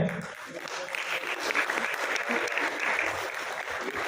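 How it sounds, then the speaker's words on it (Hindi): Loud audience applause fills a hall at a national women's empowerment award ceremony in Delhi, a dense steady clapping that swells after a brief start and keeps going to the end. "एक बार जोरदार तालियां हो जाए।"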